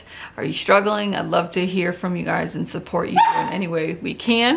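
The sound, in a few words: dogs barking indoors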